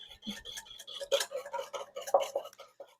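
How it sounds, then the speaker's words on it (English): A whisk works salad dressing of olive oil together in a bowl as a quick, uneven run of light metallic taps and clicks against the sides, close and fairly quiet, with no talking. "Okay, I have my whisk. And I'm going to whisk this together."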